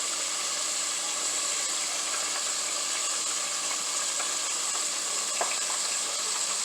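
Large shrimp fry in a pan with a steady, dense sizzle that holds evenly throughout, close and fairly loud, with no voices.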